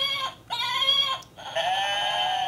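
Human voices imitate goat screams, giving a few loud, wavering, nasal bleats one after another with short gaps between them.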